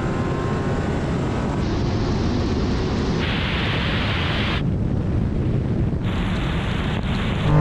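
A Nissan Skyline R34 and a Toyota Supra drag race side by side, a loud continuous roar of engines and rushing air whose tone jumps abruptly several times as the cars shift up through the gears.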